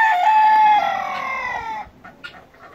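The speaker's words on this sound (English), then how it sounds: "One guinea, one little chick, and I'll come and show you the damage." Guinea fowl and chickens call inside a smallholding shed: one loud, close, crowing call is followed by a few softer clucks.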